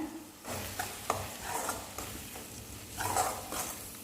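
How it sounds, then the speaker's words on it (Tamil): Homemade curry powder for egg kulambu being sautéed in oil: a soft, quiet sizzle with gentle repeated stirring scrapes in a pan, no talking. "குழம்புத்தூள் சேர்த்துட்டு நல்லா அந்த எண்ணெயிலேயே வதக்கி விட்டுருங்க"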